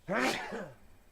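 A single sharp sneeze, close and loud, bursting out and then trailing off quickly, heard during a casual late-night chat stream.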